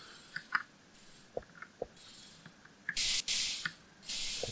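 Water pours and splashes in the Minecraft video game, heard as several short bursts of hissing spray separated by soft drips and faint clicks, fairly quiet overall.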